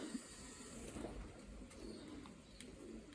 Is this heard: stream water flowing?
no